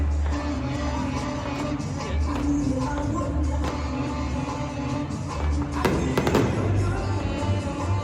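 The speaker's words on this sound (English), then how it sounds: "at the end of it, they had some fireworks" Fireworks go off after a Georgia Bulldogs football game, a continuous wash of crackles and booms, with a denser burst of sharp pops near the end.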